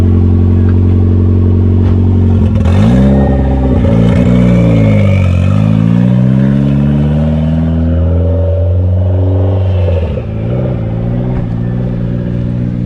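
A small turbocharged Mazda Miata engine idles with a loud, close rumble, then revs up and down in sweeping bursts, with a final rev near the end.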